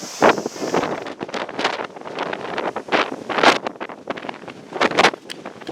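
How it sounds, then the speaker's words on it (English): Loud gusting wind buffets the microphone in rumbling bursts, uneven and close, with no speech. "It's a little windy"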